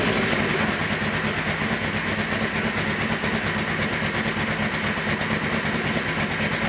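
A Suzuki GS850 motorcycle engine with pod filters and untuned carburetors running steadily at close range, a dense continuous idle rumble with no break and no talk over it.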